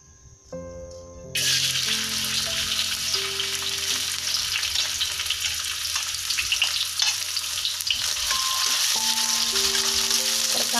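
Steady, loud sizzling of coconut oil frying in a pan, starting abruptly after a brief clatter and continuing evenly throughout with faint stirring.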